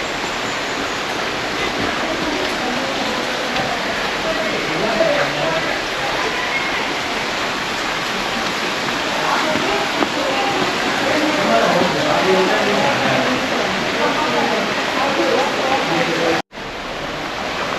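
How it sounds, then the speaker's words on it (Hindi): Tukad waterfall in Ubud, Bali, roaring as a steady, dense rush of falling water close by, continuous and loud throughout with a brief dropout near the end. "I can see the waterfall from here, so let's go"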